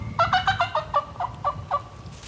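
A wild turkey gobbler gobbles during a hunt outdoors, one loud rapid rattling burst of about eight throaty pulses, close and clear against a quiet background.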